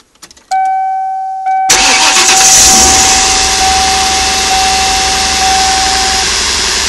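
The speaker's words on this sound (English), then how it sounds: "There's the engine, and this is the beautiful sound." A Ford Triton 5.4L V8 cranks and fires up, then settles into a loud, steady idle close to the microphone, accompanied by a constant ringing chime like a door or key warning bell.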